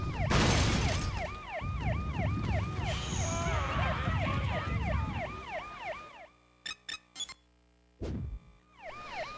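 Police siren wailing in the video game Hulk: Ultimate Destruction, a repeating up-down yelp over crashing game noise, then cutting out to near silence with a few clicks before the wail briefly resumes.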